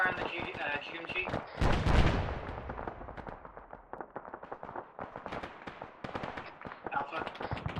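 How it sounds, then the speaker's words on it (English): Grenade machine gun fire in the Arma 3 military shooter, a rapid string of popping, booming reports with one heavy blast early on, while radio chatter and voices carry on through it. "Is that you firing the GMG?"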